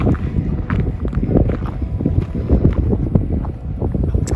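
Strong wind buffets a hilltop on a Greek island above a village, loud gusty rumbling and blustering that surges and dips continuously.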